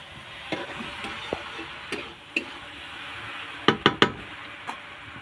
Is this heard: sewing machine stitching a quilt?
no